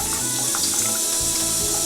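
Steady stream of tap water from a water ionizer machine pouring into a cup, a continuous close splashing hiss filling the whole short stretch.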